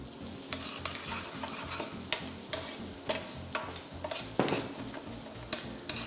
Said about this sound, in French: On va mettre notre sèche.